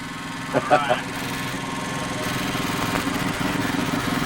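Motorcycle engines rumble and idle at flat track races in Rochester, a steady mid-pitched drone under a few brief louder sounds, with people talking nearby.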